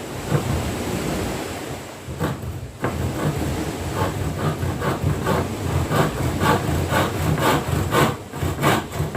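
A hand saw cuts a wooden board along a marked line during home chores, with steady rasping back-and-forth strokes in a continuous rhythm, loud and close over a constant hiss, with no talk.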